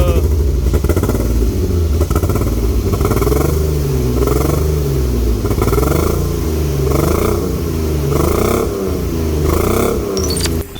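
A BMW E36 328i engine runs roughly nearby on three cylinders due to seized injectors, with an uneven, lumpy idle that pulses and stumbles rather than running smooth; loud and continuous.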